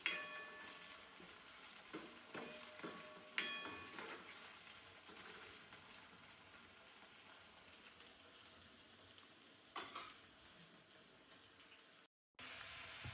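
Green chilies stir-roasting in a pan give off a steady broadband sizzle, broken early on by a few sharp scrapes and knocks of stirring and a brief clatter near the end, with no one speaking.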